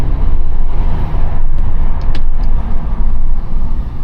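A VW Golf 7 R-Line with a 1.4 TSI engine and DSG gearbox drives at night, its loud, continuous road and engine drone filling the cabin with steady low rumble.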